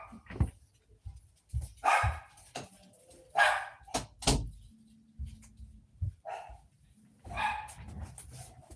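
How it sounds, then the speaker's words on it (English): A dog barks in short, sharp bursts indoors, roughly a dozen yips and barks spread unevenly across nine seconds, fairly near and clear against a quiet background. "my dog's going to keep barking"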